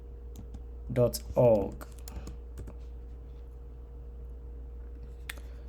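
Light, scattered clicks of a computer keyboard as a web address is typed, close and quiet, with a brief spoken phrase near the start.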